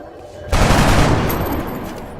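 Gunfire erupts in the video game XCOM Long War during a first mission, a loud burst of shots that opens sharply and then rumbles down over about a second and a half.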